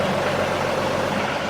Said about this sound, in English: I'm going to start the tractor back up